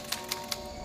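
A mechanical typewriter in an office, three crisp evenly spaced key strikes over a steady low room hum, close and clear with no talk.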